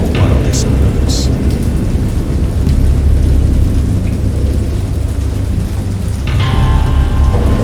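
A fierce thunderstorm from the Lovecraft horror game Dagon: loud, heavy rain hisses without pause while deep thunder rumbles underneath, with a few sharper bursts rising above the downpour.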